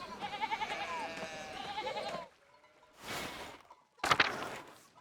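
Sheep bleating in the video game Pentiment, a sustained run of bleats that cuts off abruptly, then short separate bursts after quiet gaps.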